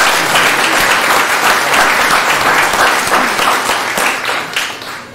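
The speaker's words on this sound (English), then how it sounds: "Please give a round of applause to Keith McDermott" An audience at a Little Falls, New Jersey township council reorganization meeting gives a dense, loud round of applause that holds steady and then starts to taper off at the end.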